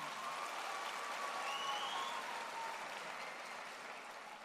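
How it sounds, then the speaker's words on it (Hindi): An audience at a business gathering bursts into sustained applause, a broad even hiss of many hands clapping that stays steady and then tapers slightly, heard at a moderate distance with no talking over it. "चाहूंगा एक बार जोरदार तालियां हो जाए उनके लिए।"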